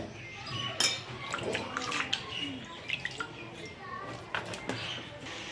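Washed potato sticks for French fries are tipped into a colander to drain, giving close, uneven splashes and dripping water with a few sharp knocks, and faint background voices.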